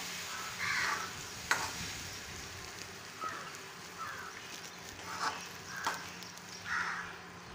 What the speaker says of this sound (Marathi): लगेच आपल्याला परतवून घ्यायचं आहे ढवळायचं आहे